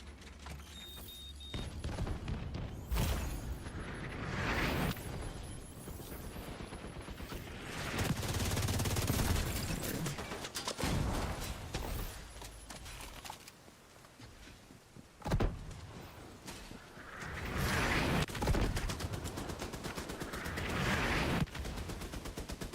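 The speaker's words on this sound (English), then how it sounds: "And then the turret just shoots me again, like, come on." Automated turret gunfire in The Division 2 rattles out in several bursts separated by pauses, mixed with other game effects at moderate loudness.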